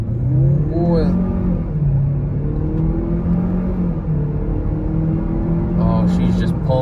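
A 2020 GMC Terrain SLT crossover with a 170-horsepower 1.5-liter engine accelerates on the interstate. The steady engine drone and road rumble are heard from inside the cabin, and someone talks over them throughout.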